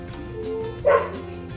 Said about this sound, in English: the dog is still barking because the dog is not happy that I am out here cooking